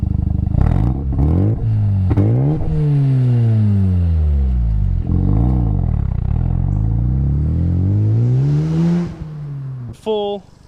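An unmolested factory 13B twin-turbo rotary in a Mazda RX-7 FD revs up and down several times, loud and close, with smooth rising and falling engine tones, then cuts off with a brief high chirp at the end.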